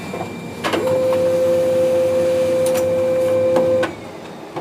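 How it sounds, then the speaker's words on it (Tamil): A Konica Minolta bizhub 226 copier makes a copy: a click, then about three seconds of steady mechanical whirring with a high, even tone, ending in a clunk as the sheet feeds out. "இப்போ வந்து ஸ்டார்ட் பட்டனை கொடுத்தா காப்பி வந்துடும்."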